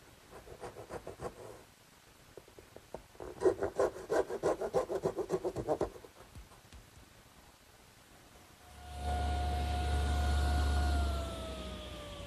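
Hand saw cutting the top and bottom of a wooden tenon, with brisk rhythmic back-and-forth strokes in two bursts, close and clear, followed by a louder steady mechanical whine near the end.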